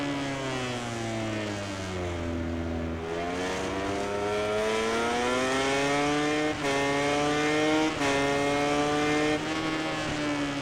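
A MotoGP 19 racing motorcycle engine screams during a race on Xbox One X. The high-revving whine is continuous, rising and falling in pitch with quick gear-shift dips, and stays close and steady with no talk.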